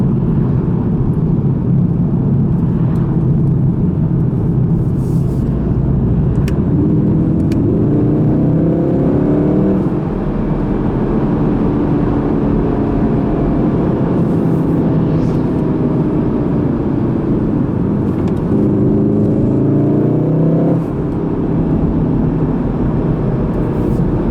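A 2016 Volkswagen Golf R with DSG gearbox drives on the road, its engine a loud steady drone that swells twice in rising, accelerating revs through the gears, with no voices.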